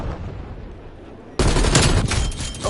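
Pistol gunfire in a Call of Duty Cold War multiplayer match: a quiet stretch, then a sudden loud burst of shots and impacts in the second half that stays dense until the end.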